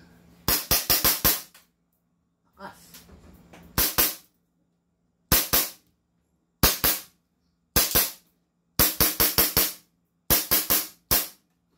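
An airsoft pistol fires sharp, loud cracks in quick bursts of one to five shots, spaced by short silences, with a faint mechanical rattle between some of the bursts.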